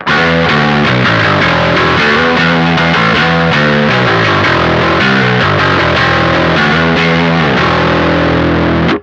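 A continuous electric guitar riff through a Harby Pedals Noble Tone overdrive with the tone rolled down, darker and rolled-off, playing steadily and loudly throughout with no talking.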